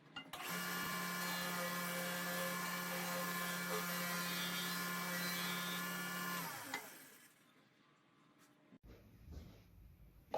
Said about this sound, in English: I'm going to be using my benchtop belt sander in order to take down these hard 45-degree angles